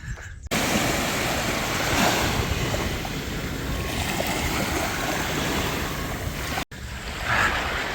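Ocean waves wash steadily onto a beach in Spain as a loud, continuous surf rush mixed with wind noise. It breaks off briefly near the end, and no one speaks.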